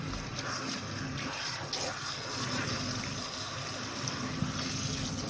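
Water runs from a tap over a non-surgical hair replacement system to rinse out the suds, a continuous close gushing that stays steady with slight changes as the piece is moved under the flow.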